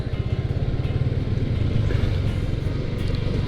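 A motorcycle engine idles steadily while warming up for a few minutes, a close, even putter with a constant rhythmic pulse and no talking.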